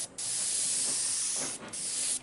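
An airbrush sprays paint in a garage paint job, a steady close hiss that runs almost continuously with two brief pauses.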